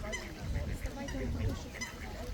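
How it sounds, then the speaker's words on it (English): Geese honking at a park lake, a busy run of overlapping calls near and far over steady outdoor background noise. "Look, geese."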